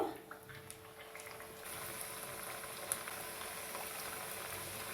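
Steady crackling sizzle of potato-stuffed kachoris frying in hot oil, continuous and close, growing slightly louder partway through, with no voices.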